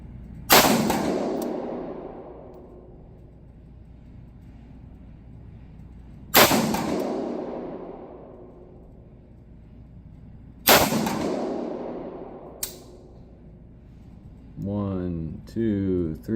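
Three sharp, loud shots from a Cru Arms TEMP556 piston-driven .22 rifle firing PMC Bronze ammunition, spaced several seconds apart, each trailing off in a long outdoor echo, with brief speech at the end.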